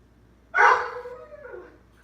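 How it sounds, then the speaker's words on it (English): A dog gives a single drawn-out, whiny bark that slides down into a whimper. The sound is close and fairly loud in an otherwise quiet room during a home yoga session. "The dog is not happy"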